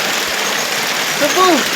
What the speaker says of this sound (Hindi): इधर से झरना आ गया